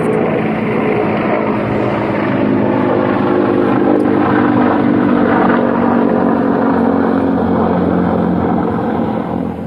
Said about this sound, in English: an aircraft comes by, and it's loud